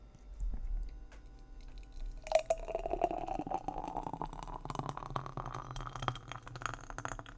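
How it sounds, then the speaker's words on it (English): A Bloody Mary mixture with sweetener and mint is poured into a glass in a home kitchen, a soft liquid stream rising in pitch as the glass fills, preceded by faint handling noises. "So I added a sweetener in, and then now I'm pouring it in the glass."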